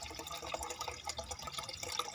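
Water trickles and splashes steadily out of a PVC pipe in an aquaponic system built from a scrap refrigerator and washing machine, a faint, close, continuous patter.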